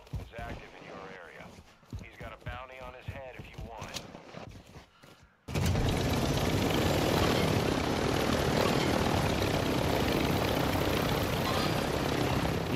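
A helicopter in the Call of Duty DMZ video game roars in abruptly after a stretch of players talking, its loud, dense rotor and engine noise holding steady and close to the end.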